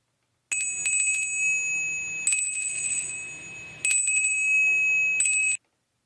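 A bright bell rings out in four separate rings, each a sustained ringing tone lasting about a second, clear and close with silence before and after.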